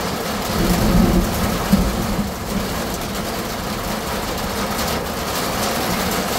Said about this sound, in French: Ces salves de pluie qu'il y a.